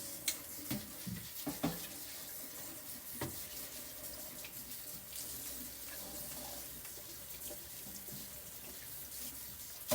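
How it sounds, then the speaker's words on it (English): Canned white beans are drained and rinsed under a running kitchen sink tap, a faint continuous water flow with a few soft clunks of the can near the start. "I'm also gonna add a can of white beans that I previously opened, and I'm bringing to the sink to drain and rinse"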